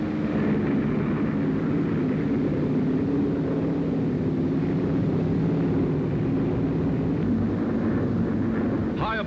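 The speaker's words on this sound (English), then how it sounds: "Taking off from runways hewn from the jungle, they roar aloft" Curtiss Kittyhawk fighter planes take off from jungle runways and climb, a steady heavy engine roar throughout, loud and continuous, with old newsreel-style recording quality.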